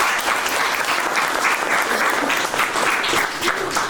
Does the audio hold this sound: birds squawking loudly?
no